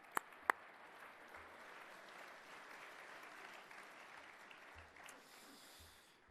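Sustained audience applause at a football league awards ceremony for divisional winners, a dense steady wash of clapping from a large crowd, with a couple of sharp nearby claps at the start, heard at a distance.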